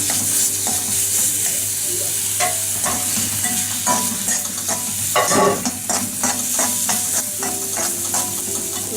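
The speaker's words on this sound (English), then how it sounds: "To this now I'll add ginger garlic paste, and I have to saute till the raw taste goes." Ginger garlic paste sizzles in a hot pan as it is sautéed. A constant close frying hiss runs under frequent scraping and clinking strokes of a spoon, with a louder burst of sizzle midway.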